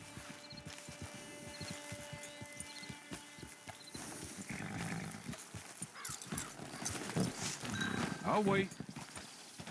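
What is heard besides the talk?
horse hooves clip-clopping in Red Dead video game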